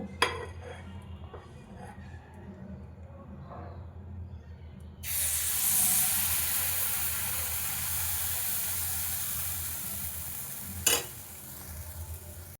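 Soft kitchen clinks and scrapes, then a sudden loud hiss as a ladle of batter hits a hot oiled kadai, settling into a steady sizzle with one clatter later.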